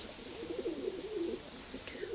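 Pigeons kept in a cellar coop, including tumbler-type breeds, coo softly and continuously nearby in low, rolling, overlapping calls.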